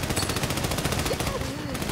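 Rapid automatic gunfire from the video game Army of Two: The Devil's Cartel, a dense, loud, continuous rattle of shots filling the moment, with a voice faintly mixed in.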